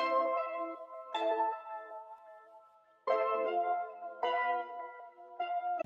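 Rendered synth pattern layering sounds from Analog Lab and Omnisphere, pitched up an octave, playing bright sustained chords that change in four clear blocks, alone with no talk.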